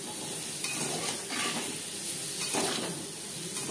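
Paneer pieces fry lightly in a pan, giving a steady soft sizzle with occasional stirring scrapes and utensil taps, fairly quiet and without speech.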